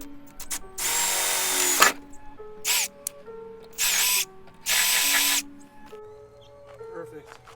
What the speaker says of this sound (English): So I'm gonna go ahead and drill this hole out.